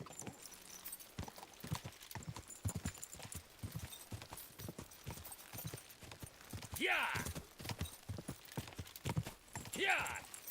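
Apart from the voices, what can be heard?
horse hooves clip-clopping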